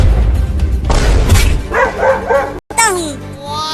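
A dog barks and yelps loudly and up close in a few short bursts, mixed with a burst of noise and some voices.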